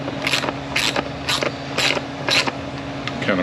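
Ratchet clicking in short repeated bursts while tightening pump or converter bolts on a cast iron Powerglide transmission, about six evenly spaced ratcheting strokes, close and fairly loud, with no talk.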